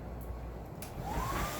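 A hair dryer blows in a steady, fairly quiet whoosh, with a faint rising whine toward the end.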